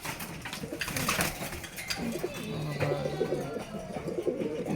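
Pigeons coo in soft, low, rolling calls close by, repeating over a steady background of other bird chatter.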